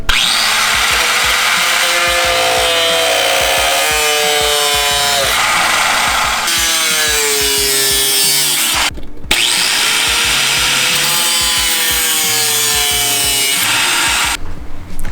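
A power tool cuts a rusted section out of an AE86 engine bay, giving a loud, continuous grinding screech with rising and falling pitch sweeps and a couple of brief stops close by.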